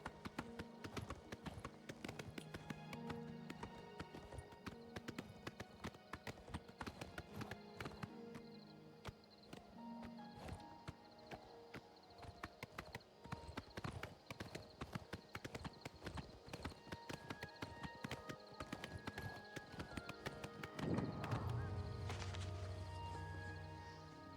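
Horse hooves clip-clopping in the video game Oblivion Remaster, a steady run of close hoofbeats on the ground, joined near the end by a low sustained tone.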